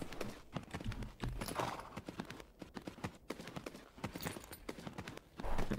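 Horse hooves clip-clop quickly and steadily in the horse-riding video game Tales of Rein Ravine. The beats are close and moderately loud and carry on throughout without voices.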